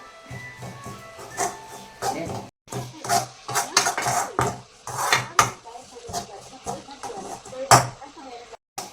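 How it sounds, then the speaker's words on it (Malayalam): Masala powder roasting in a pan while a spoon stirs it, with repeated sharp metallic scrapes and clinks of utensil against pan, close and fairly loud, with intermittent sizzling. "എല്ലാം കൂടെ ഇളക്കി വറുത്തെടുക്കുക."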